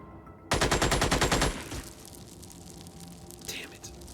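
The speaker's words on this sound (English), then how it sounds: "we might be able to suppress him with the LMG if we shoot past him" Light machine gun fire in a video game: a loud, rapid burst of about a dozen closely spaced shots lasting around a second, followed by quieter background ambience with faint voices.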